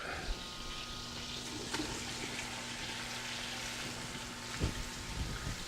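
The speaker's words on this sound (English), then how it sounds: "So now we're going to add the onions in there." Onions sizzle steadily in hot olive oil and butter for St. Patrick's Day sausages, a dense crackling hiss with a low steady hum beneath and a few sharper pops.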